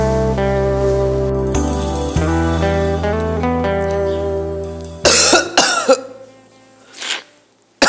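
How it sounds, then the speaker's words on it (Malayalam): A person coughs harshly in several quick bursts near the end, following a stretch of music, with one more cough a moment later, up close and loud. "ഭയങ്കര ചുമ"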